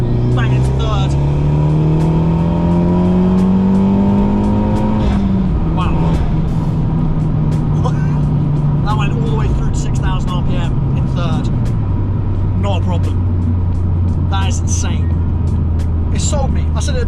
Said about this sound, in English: we got straight here, so I'm just going to bang into third